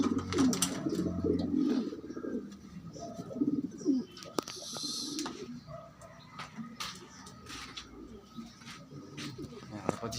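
Pigeons cooing in low repeated bursts close by, with faint chirps and other bird calls mixed in and a few sharp knocks in the background.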